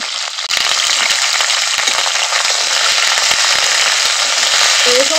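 Okra dropped into hot white oil on high heat, a loud continuous sizzle that bursts in after a brief quiet moment and keeps crackling steadily close by.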